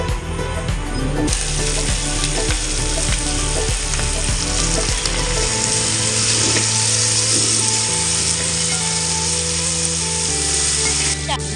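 Onions with green chilli, tomato, ginger, garlic and curry leaves sautéing in a pan, a loud continuous hiss and sizzle with rough clattering stirring, close up, with no talking.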